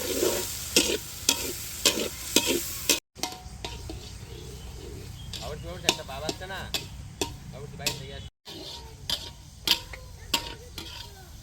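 Garlic frying and being stirred in a pan while cooking fish curry, with steady sizzling broken by repeated sharp scrapes and taps of a spoon against the pan, close and fairly loud, with brief pauses.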